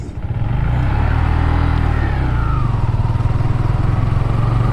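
A Honda Grom motorcycle rides along with a loud, close, throbbing small-engine drone that rises in revs and settles into a steady pulsing cruise, with no talk.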